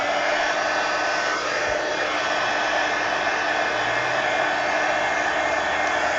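A hair dryer blows steadily to dry paint on the pages of a mixed-media altered book, a constant close whoosh that runs unbroken with no talk.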